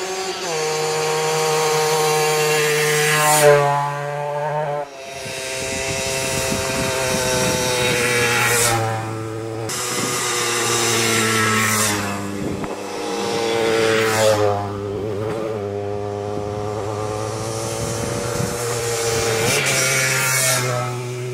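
Tuned Japanese mopeds at a moped rally, one with a modified cylinder, rev hard and close, their high buzzing two-stroke engines rising and falling in repeated long pulls with brief throttle drops between.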